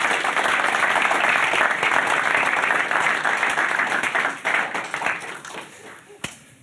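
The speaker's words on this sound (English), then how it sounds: "Huge round of applause for David Lipper, please." Audience applause at a Montreal startup fireside chat, a dense, loud burst of clapping from a crowd that holds steady for several seconds, then thins out and fades into scattered claps.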